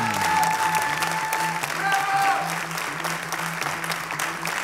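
An audience at a televised singing contest gala show applauds steadily, with some cheering mixed into the clapping and a sustained low musical tone running underneath.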